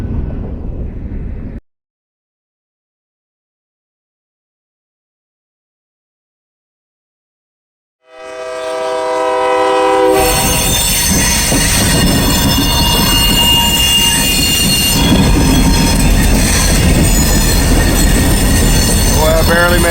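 A long freight train on the I&O line rolls past up close and loud, with dense wheel noise, metallic squealing tones and a steady rumble, after a short burst of noise and a silent gap.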